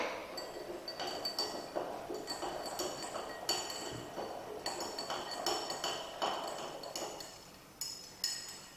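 A solution being stirred in laboratory glassware: close, rhythmic glassy clinks and taps, repeating irregularly about once or twice a second with no talking.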